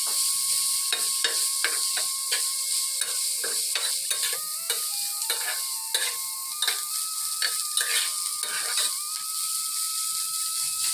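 Shrimp with turmeric and salt frying in a pan while being stirred, a constant bright sizzle broken by repeated scraping clicks of the utensil against the pan, close and lively throughout.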